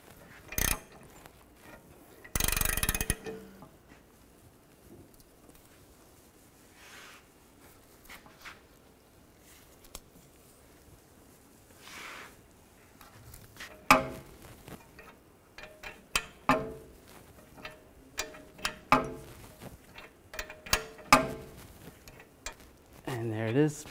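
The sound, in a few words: tightening press tool pushing in Jeep rear wheel bearing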